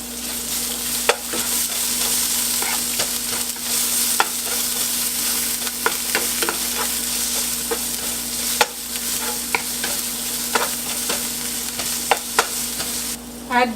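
Sliced onion frying with cumin seeds in a pan, a steady sizzle throughout with occasional sharp stirring scrapes and clicks, close and fairly loud, no talk.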